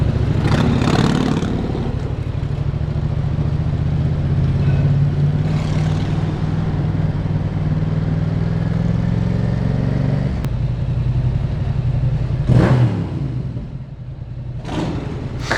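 A motorcycle passes close on a French road, a loud engine rumble that swells and recedes over a steady low drone of traffic, with sharp whooshes of passing vehicles near the start and end.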